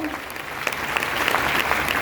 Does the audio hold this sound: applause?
yes